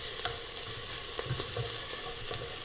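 Ginger garlic paste stirred and frying in a pan, with a steady sizzle and soft scraping stir strokes repeating every half second or so, close and moderately loud, no talking.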